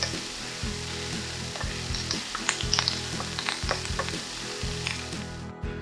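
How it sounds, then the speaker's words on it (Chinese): Prawns stir-frying with coriander, a crackling sizzle under repeated rhythmic clanks and scrapes of a spatula against the wok, close and steady with no voices. "虾炒熟了以后，可以加入香菜下去一起炒"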